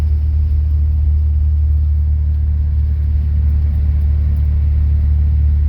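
A 1987 Chevy Celebrity Eurosport cruising at 45 mph and about 1500 RPM with the torque converter locked up, giving a steady, continuous low engine and road rumble with no one talking.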